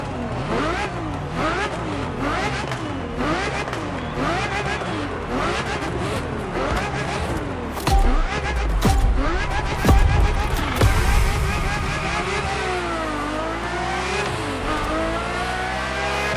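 Ferrari F50 engine in The Crew Motorfest, revving hard with rising and falling gear-change sweeps, loud and continuous under a talking voice, with a heavier surge partway through.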